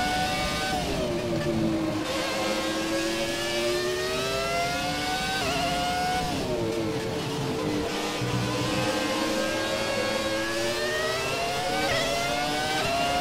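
Formula One race car engine in the F1 2017 video game, a loud, continuous high-pitched whine that rises and falls with revs and gear changes throughout, with no talking over it.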